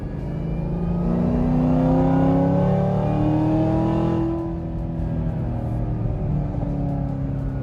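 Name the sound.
Camaro ZL1 supercharger blower, revving engine to 5000 rpm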